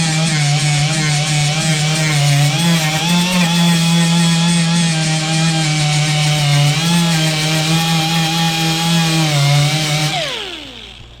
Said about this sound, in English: I'm just going to grind it down